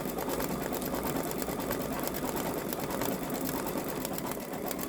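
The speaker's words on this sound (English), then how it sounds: "when the machine is done stitching it out" Babylock Solaris embroidery machine stitching a Ninjago design onto a boy's sweatshirt, producing a continuous, fast mechanical whir and rapid needle chatter at an even, fairly loud level with no pauses.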